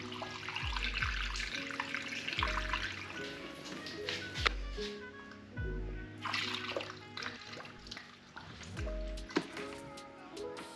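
Coolant being poured into a Kawasaki ZX6R motorcycle cooling system, a quiet trickling and gurgling liquid pour broken by soft glugs and small knocks from the container, close by.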